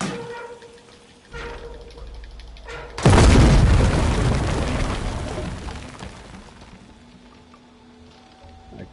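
A heavy explosion in the video game Shadow of the Tomb Raider goes off after a weapon is fired: a loud, booming blast about a third of the way in, fading into a long rumbling tail over quieter ambient game sound.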